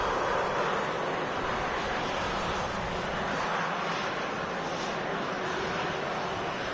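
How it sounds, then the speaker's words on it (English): A Ryanair jet taxiing past at Manchester Airport on a rainy day, a steady, moderately distant broadband engine roar that holds evenly throughout with no voices. "The noise you can hear is just a Ryanair passing in front of us"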